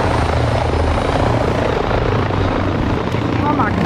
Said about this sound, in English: Oh my god, that helicopter.